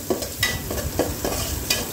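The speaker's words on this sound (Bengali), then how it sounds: "তারপর পেঁয়াজটাকে এখন বাদামি রঙের করে ভেজে নিব।" Onions frying in oil with a clove and a piece of cinnamon, a close steady sizzle broken by rhythmic stirring scrapes of a spoon against the pan.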